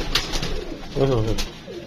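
Pigeons, a green male and a female, coo close by, a soft low throaty burble rising in the middle of a short stretch, with faint background noise around it.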